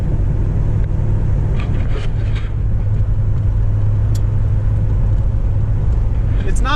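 Buick Riviera, an old car being revived, driving on the road with a full tank and slight vibration: a steady, deep road-and-engine rumble heard from inside the cabin, continuous throughout.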